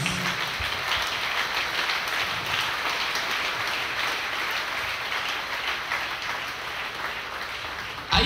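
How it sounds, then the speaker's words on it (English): A church congregation clapping for Jesus at a healing service, sustained loud applause filling the whole stretch with no voices over it. "rise up and clap for Jesus"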